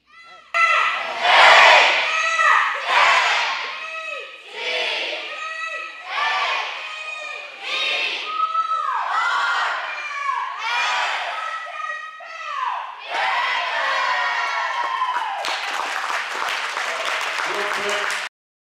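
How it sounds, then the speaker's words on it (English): A crowd at a school sports banquet performs the Panther cheer: rhythmic group shouts chanted in unison, several loud call-like bursts in a row, ending in a rising roar of cheering and clapping from the whole room. "they want to do the Panther cheer"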